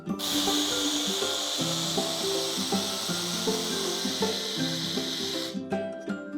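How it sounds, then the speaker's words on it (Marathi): Mixer grinder whirring steadily as it grinds spices into a coarse powder for a summer drink, a loud continuous motor drone with rattling contents, stopping abruptly near the end. "ग्राइंडरचं झाकण लावून घेऊया आणि आता हे आपण ग्राइंड करून घेऊया"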